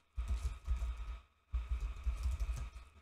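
Typing on a computer keyboard, entering a title; two quick bursts of close, rapid key clicks separated by a short pause.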